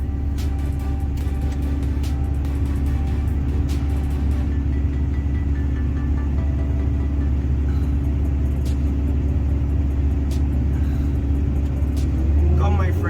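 A truck rumbles at an excavation site, a loud steady low engine drone with occasional clanks, continuing throughout without a break.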